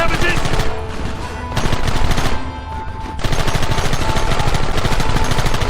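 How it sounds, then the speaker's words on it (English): Rapid automatic gunfire from the Western video game Red Dead Redemption on PC rattles loud and nearly nonstop in dense overlapping bursts, easing briefly twice before surging again. "Open fire!"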